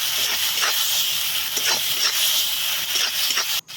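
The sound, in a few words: spices sautéing in a pan for potato egg curry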